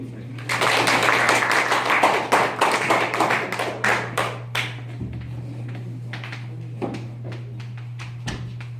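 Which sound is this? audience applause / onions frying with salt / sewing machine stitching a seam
audience applause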